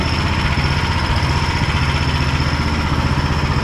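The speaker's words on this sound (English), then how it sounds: "Now it's idling pretty slow." A close, loud, steady low-pitched idle from an Ariens Platinum 24 SHO snow blower engine running slowly after starting, with a constant even rumble and no talking.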